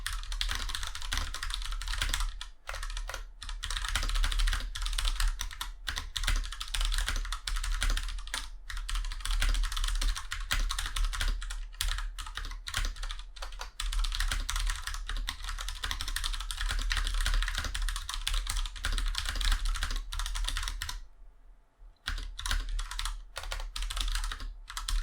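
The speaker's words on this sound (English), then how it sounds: "Let's type a little bit and see how it works." Steady, brisk typing on an IQUNIX F96 Coral Sea wireless mechanical keyboard, close and clear, with continuous clacking keystrokes and a brief pause near the end before typing resumes.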